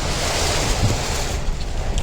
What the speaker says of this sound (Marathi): हे बघा ना किती पाऊस पडत आहे